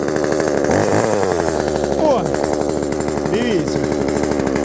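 A one-handed gasoline chainsaw runs loudly and close, its engine note rising and falling as it is revved while warming up outdoors in a village woodlot, with a brief voice over the motor.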